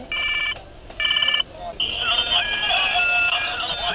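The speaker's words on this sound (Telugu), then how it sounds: "బటన్ నొక్కితే రింగ్ అయ్యి మ్యూజిక్ వచ్చేది" A toy telephone, set off by a button press, rings in two loud electronic bursts and then plays a tinny, bright melody, with faint crowd murmur in the background.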